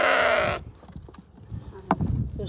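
A sheep lets out a single loud, close bleat for about half a second, followed by quieter farmyard rustling and knocks.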